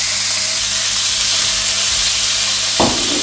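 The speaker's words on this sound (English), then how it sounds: "I'm chopping up chicken breast and ready to put in the frying pan" Steady sizzling of chopped chicken breast frying in a hot pan, a continuous close hiss with a brief sharper burst near the end.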